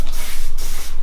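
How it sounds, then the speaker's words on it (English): Spray bottle misting a section of hair being set into beachy curls, one steady hissing burst lasting about a second, close and fairly loud, with no talk. "So again, I'm going to spray that second section."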